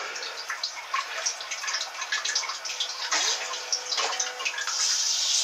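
TOTO Japanese toilet with LCD control panel, its bidet nozzle spraying water in a steady hissing, splashing stream that swells louder toward the end, heard close and alone.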